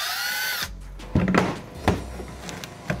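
A power driver removes a Torx T25 screw from the front grille of an Audi A6 in short, close bursts of whirring. A high tool whine fades out first.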